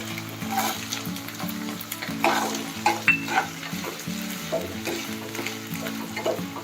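Small chopped carrot pieces fry and sizzle in a pan for pulao while being stirred, a steady hiss with occasional utensil scrapes and light clinks against the pan, no talking.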